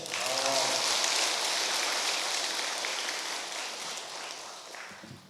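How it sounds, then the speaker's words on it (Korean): Sustained audience applause at a Buddhist Dharma talk during a question-and-answer session, a steady hiss of many hands that slowly fades toward the end. "박수 한번 쳐주세요"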